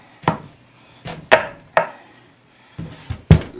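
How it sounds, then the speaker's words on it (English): A knife chops hard into a tough winter squash on a board, about seven sharp, separate thuds in an uneven rhythm, close and clear with no talk. "I'm going to cut it down this way in half. And it is a squash, so it's pretty tough."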